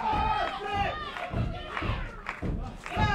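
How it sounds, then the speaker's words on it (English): A pro wrestler's shouted battle cry rising over a loud, roaring crowd at a live wrestling show, with heavy thuds and steady cheering and clapping throughout a short burst of arena noise. "There's the battle cry from the Navajo Warrior."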